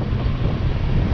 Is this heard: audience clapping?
no